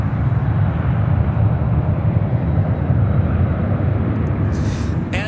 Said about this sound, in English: That was Speedburn, British Airways Flight 280 heading back to London in that 777-300ER.